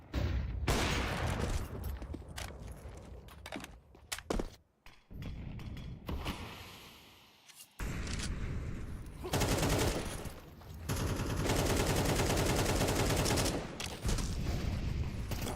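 Counter-Strike gunfire spray in a competitive match, dense bursts of automatic shots with brief pauses and mechanical clatter, loud and close throughout.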